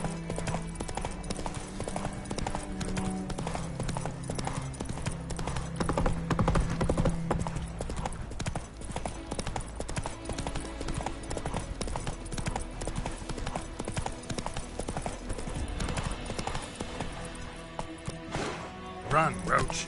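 Roach, Geralt's horse in the video game The Witcher 3, gallops with steady, rapid hoofbeats throughout, layered over game music, with voices calling out over the action.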